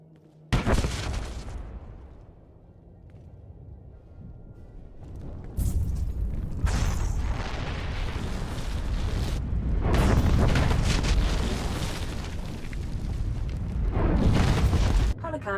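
An explosion in the Star Wars: The Old Republic video game, with deep, loud rumbling bursts that swell and roll on for several seconds, layered blasts and debris noise filling the scene.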